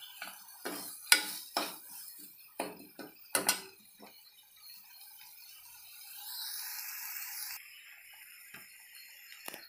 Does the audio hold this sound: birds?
no